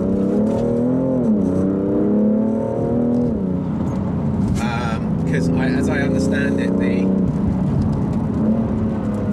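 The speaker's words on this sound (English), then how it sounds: "in the Sport Plus, you get a lot more low down noise" A BMW M3 Competition engine in Sport Plus mode rumbles loudly from inside the car, its pitch rising, falling and settling while the driver talks over it throughout.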